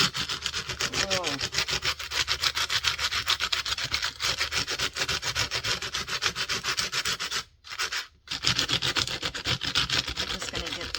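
Sandpaper rubs back and forth over a surface in a fast, steady rasping rhythm, close and fairly loud, briefly stopping twice before resuming.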